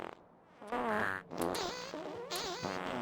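Puffers in the Factorio SeaBlock video game make comical farting sounds. Several loud, wobbly, buzzing blasts come in a row with short gaps between them, and nobody speaks.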